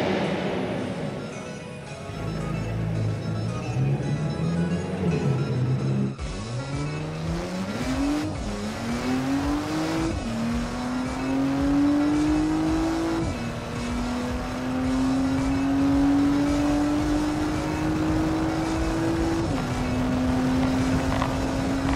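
A Porsche Panamera 4S sedan accelerating hard at speed, engine note climbing steadily through successive gears with brief dips at each upshift, loud and continuous from inside or close to the car.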